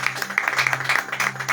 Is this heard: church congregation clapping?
yes